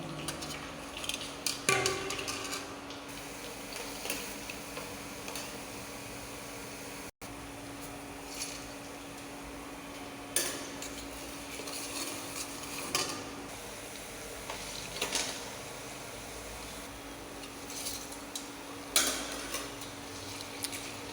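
Fried boondi is stirred into sugar syrup for laddu, with intermittent scraping and clinks of a spoon against a vessel over a steady fan hum.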